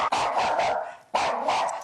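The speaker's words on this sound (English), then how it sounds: "The dog's barking all the time." A dog barks indoors, two loud sharp barks about a second apart, each followed by a short trailing growl-like tail, heard alone without talk.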